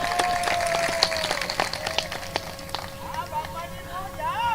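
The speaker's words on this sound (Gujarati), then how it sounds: "આ વધાવવાનું તાળીઓથી વધાવો" An audience claps to welcome an elderly guest onto the stage at a Gujarati dayro folk performance, scattered clapping running throughout while someone speaks over it and a sustained musical tone hums beneath.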